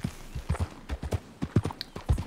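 Horse hooves clip-clop at a steady gallop in the Red Dead Redemption 2 video game, a close, rhythmic run of thudding hoofbeats with no other sounds.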